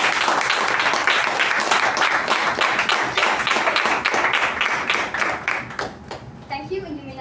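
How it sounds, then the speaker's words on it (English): Audience applause for an executive committee at a Toastmasters meeting, a dense, loud round of clapping that holds steady for several seconds and then thins out toward the end, with speech faintly audible beneath. "round of applause for your executive committee."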